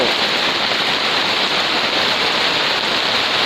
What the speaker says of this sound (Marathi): जोरदार पावसाला सुरुवात झालेली आहे